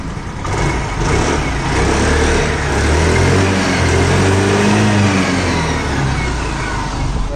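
A used motorcycle at a bike dealer's lot in Bagnan, Howrah, runs steadily with its engine idling and revving. The drone is loud and close, holds for the whole stretch and swells slightly in the middle, with no talk over it.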